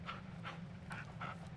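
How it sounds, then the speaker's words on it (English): A dog in the horror video game Blair Witch pants in quick, regular breaths, four or five short huffs heard close and soft over a low background hum. "Yeah, good dog."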